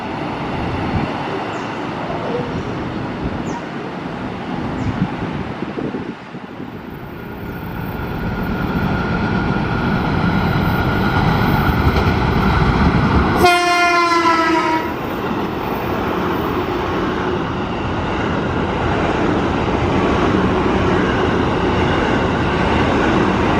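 An oncoming KRL commuter electric train passes close by a moving express train on an Indonesian main line, a loud sustained rumble and rush of wind with a brief horn blast in the middle, continuing as steady rolling noise.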